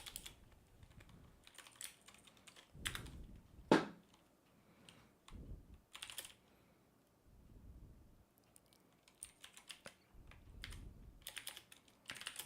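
Computer keyboard typing in bursts of quick clicks with pauses, close and fairly quiet, one sharper louder keystroke standing out, no talking.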